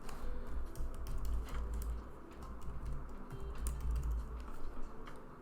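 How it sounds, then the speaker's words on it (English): Steady run of keyboard typing, a fast patter of light clicks going on for several seconds, close and fairly quiet over low room hum. "I'm gonna type that in."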